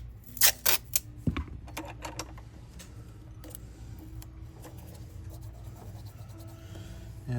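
A small piece of tape is pulled and pressed on during a Bigsby tailpiece install on a Gibson ES-355 guitar: a quick cluster of crisp rips and rubbing at the start, then a quiet hum.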